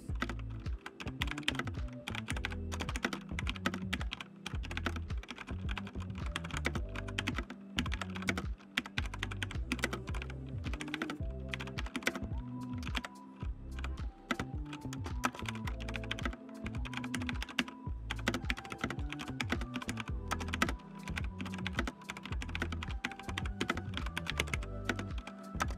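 Steady, rapid clacking of keys on a Razer BlackWidow V2 Chroma Tournament Edition mechanical keyboard, continuous typing with varied rhythm and no voices.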